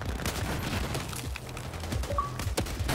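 A grenade blast in the Battlefield 4 campaign's South China Sea mission, a dull boom set within a dense, constant din of gunfire and battle noise, loud and close throughout.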